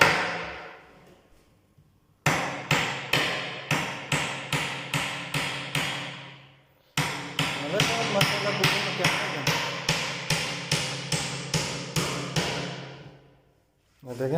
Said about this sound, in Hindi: उन्हें पूरी किल ठोक के सब मजबूत कर देता है